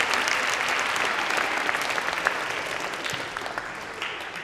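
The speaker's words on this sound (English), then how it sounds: "Give yourself a round of applause." Warm applause from an audience at a live storytelling show, a full, steady patter of many hands that eases slightly toward the end.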